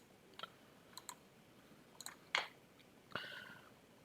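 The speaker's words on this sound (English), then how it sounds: "you can just click this square button" Mouse clicks on a web form button, a few sharp isolated clicks spaced out over near silence, close and crisp.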